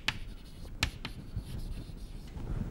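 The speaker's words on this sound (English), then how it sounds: "So let me write that down." Chalk or marker strokes on a board during a mathematics lecture, a few faint scratchy taps and short rubbing marks over quiet room tone.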